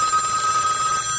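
An old landline telephone bell rings steadily in a short, loud burst within a KDWB AM radio phone giveaway spot, with no voice over it.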